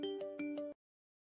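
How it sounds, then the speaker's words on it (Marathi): A mobile phone ringtone plays a bright, repeating electronic melody in four quick pulses, loud and close, then cuts off abruptly into silence. "अगं बाई, फोन माझा."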